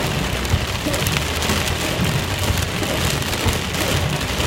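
Heavy, storm-like rain pours steadily onto a road on the way home, a dense, loud roar of drops with no pauses and no speech.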